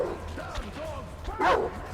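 A dog in the video game Metro Exodus whimpers and gives short yips, a few thin whining cries rising near the end over a low background rumble.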